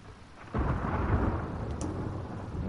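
A loud thunderclap from lightning in a video game, rolling in abruptly after a quieter stretch and rumbling on steadily with rain, nearby and heavy, no one talking.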